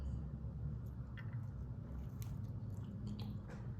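Biting into and chewing a Taco Bell menu item, with soft wet munching and faint crunches close to the mic over a low steady rumble.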